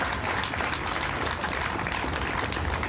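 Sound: audience applause at Memorial Day ceremony

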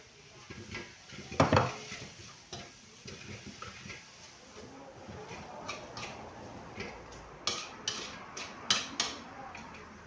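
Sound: stir-frying chili fried rice in a pan

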